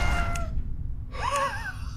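A game cat in Roblox gives two rising, wavering meows, the first brief near the start and a longer drawn-out one after a short pause, set over a steady low background hum.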